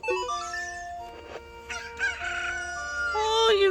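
A cuckoo chicken in Zelda: Ocarina of Time crows a bright, tonal cock-a-doodle-doo and then lets out short clucks, clear and close with no talking over it.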